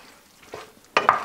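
Shrimp lo mein tossed in a hot pan: a faint sizzle, then two quick loud clattering swishes as the noodles are flipped, close by with no talking.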